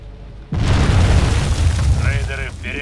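A loud, deep boom erupts suddenly and rumbles on as an explosion blasts debris in a video game, with a voice speaking over the tail end of the blast.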